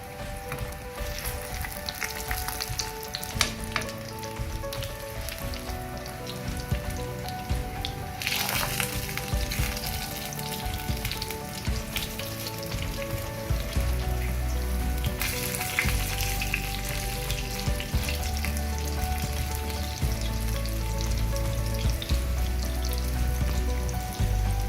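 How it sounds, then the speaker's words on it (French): Potato maakouda fry in oil in a pan with a loud, continuous bubbling sizzle and frequent crackles. A few bursts of scraping or handling interrupt it, and steady low background tones run underneath. No one speaks. "comme vous pouvez le voir, je l'ai fait frire dans de l'huile"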